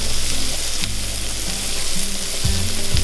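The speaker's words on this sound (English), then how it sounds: "I'm gonna saute the onions in here while the noodles are cooking." Onions sauteing in butter in a small skillet, a steady close sizzle and crackle with faint clinks of stirring, with no talk over it.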